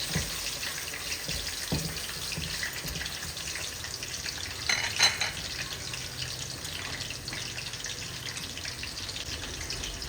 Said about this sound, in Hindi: ऑयल में हमने लहसुन और प्याज को इतना पकाना है